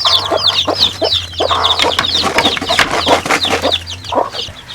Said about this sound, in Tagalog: meron na tayong 19 na sisiw